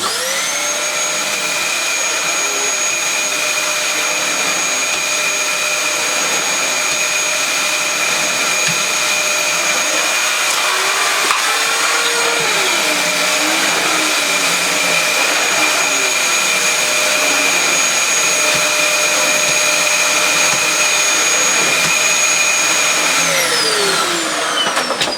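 A refurbished Dyson DC20 Stowaway vacuum cleaner runs over long and short pile carpet with a loud, steady motor whine and airflow, shifting slightly in tone before powering down near the end.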